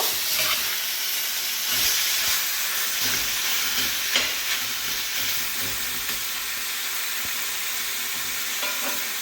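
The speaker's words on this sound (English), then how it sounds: "So you're going to let this fry for maybe like 10 minutes or so." Chicken pieces frying in a pot for Trinidad-style stew chicken, a loud, continuous crackling sizzle close up, with occasional stirring scrapes and steady hiss throughout.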